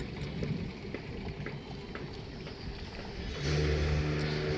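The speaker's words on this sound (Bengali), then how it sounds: "ট্রলার চলে আসছে" A trawler boat on the Buriganga River pulls in to a busy river crossing early in the morning, its low engine drone swelling louder near the end over steady wind and water noise.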